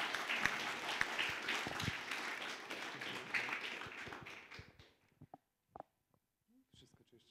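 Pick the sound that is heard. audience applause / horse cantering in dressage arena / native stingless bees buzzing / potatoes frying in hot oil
audience applause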